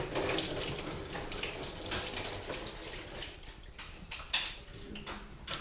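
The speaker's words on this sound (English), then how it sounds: "you just thread it out until coolant starts coming." Coolant trickles and splashes steadily from a car radiator as a sensor is threaded loose, a continuous close watery flow with a brief sharper splash near the end.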